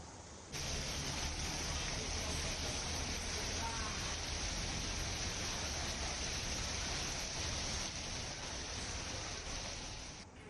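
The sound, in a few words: heavy rain in Kurla, Mumbai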